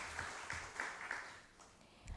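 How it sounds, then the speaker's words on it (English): Conference audience applauds the Deputy Governor of the Reserve Bank, a faint, steady patter of many hands clapping from a distance, fading toward the end. "Can we please give the Deputy Governor of the Reserve Bank a warm round of applause?"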